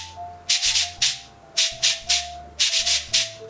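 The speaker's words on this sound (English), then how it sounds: "we're going for a sound where the beads are scraping against the metal ribbing on the interior" A cabasa is rotated back and forth, so its beads scrape against the metal ribbing in repeated rasping bursts, about ten evenly spaced strokes, close and crisp, with no talk.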